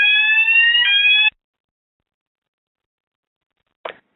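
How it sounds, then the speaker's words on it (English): An electronic fire alarm sounds during an office fire drill: a loud, steady multi-tone electronic tone lasts about a second and then cuts off, followed by silence and a brief faint tail near the end. "we had a fire alarm drill here"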